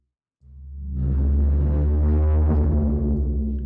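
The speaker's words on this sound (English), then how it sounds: "It's time for the distortion." ProjectSam Symphobia 4 Pandora texture run through distortion, a dense, droning harmonic tone that fades in and then holds loud and steady, with a thick low end and gritty upper overtones.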